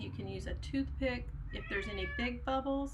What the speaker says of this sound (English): And you can hear the cat probably meowing in the background.